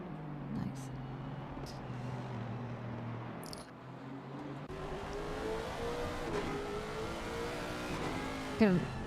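Lexus race car engine in a sim racing game at the Hungaroring, idling low, then revving up with rising pitch under a commentator's talk, ending in a short sharp squeal.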